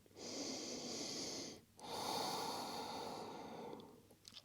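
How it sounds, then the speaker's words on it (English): Slow, deep breathing during a yoga stretch, two long close airy breaths with a short pause between them. "We will settle in here for a few deep breaths."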